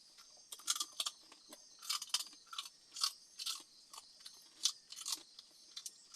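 A dog crunches on crispy pork rinds (chicharon), giving a close series of sharp, brittle bites and chews that come in irregular bursts against a quiet background.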